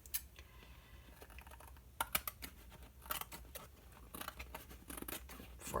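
Paper being trimmed for a scrapbook page, with a run of close, crisp snips and cutting clicks in irregular bursts over a low steady background, no talking.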